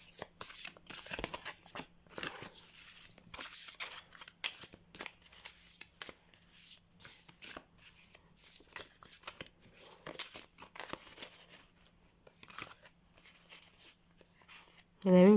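Oracle cards are shuffled and drawn from the Aujourd'hui je vis heureux deck, with soft, close riffling and flicking in irregular bursts while someone speaks quietly in between.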